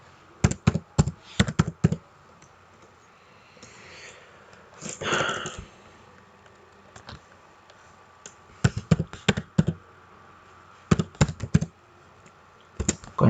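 Quick bursts of keystrokes on a computer keyboard while writing code, crisp close taps in rapid clusters separated by pauses, with a soft murmur of talk in the middle.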